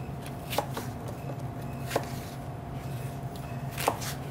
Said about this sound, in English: So now we're going to cut our apples.